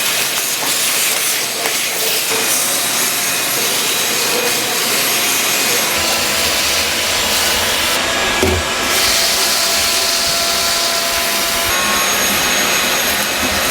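A shop vacuum cleaning a used CNC machine, a loud continuous roaring hiss heard up close with slight shifts in tone as the nozzle moves, no talk.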